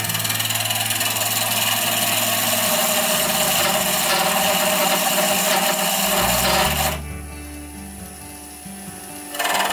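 A skew chisel takes a peeling cut on a spinning wood lathe, giving a steady, loud rasping shear over the motor's low hum for most of the run, then cutting off so that only a quieter hum remains before the rasp briefly returns.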